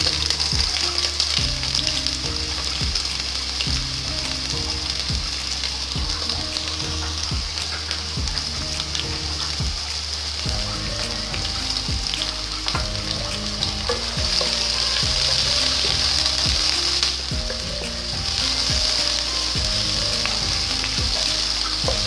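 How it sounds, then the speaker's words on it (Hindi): Onions fry in cooking oil for chicken yakhni soup, giving an unbroken, loud, close sizzle and crackle that lasts throughout with soft stirring and a low musical backing underneath. "सबसे पहले हम शामिल करेंगे इसमें कुकिंग ऑयल, प्याज शामिल की"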